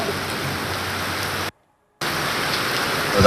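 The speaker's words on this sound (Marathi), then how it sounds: "येवल्यातील नगरसूल परिसरामध्ये ढगफुटी सदृश मुसळधार पाऊस झाला" Cloudburst-like torrential rain pours over the Nagarsul area of Yeola in Nashik, a loud, dense, steady roar that cuts out briefly and then resumes just as heavy.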